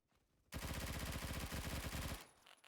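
A rapid burst of MP5K automatic fire in Roblox Phantom Forces, one loud continuous string of closely spaced shots lasting about a second and a half before cutting off abruptly, with no talking.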